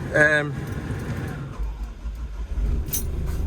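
A Doosan DX85R-7 excavator engine runs steadily after a service, a low, moderately loud rumble heard close by, with a person talking briefly at the start.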